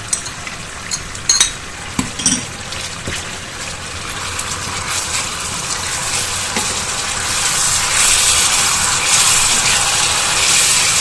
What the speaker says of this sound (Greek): Και θα σοτάρουμε ελαφρά και το σκόρδο, ξύνοντας τον πάτο της κατσαρόλας με μία ξύλινη κουτάλα ή σπάτουλα